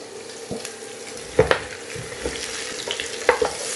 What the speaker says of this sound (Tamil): இது நல்ல ஒரு 5 நிமிஷம் இதிலேயே வந்து ரோஸ்ட் பண்ணணுங்க. இந்த எண்ணெயிலேயே ரோஸ்ட் ஆகணும்.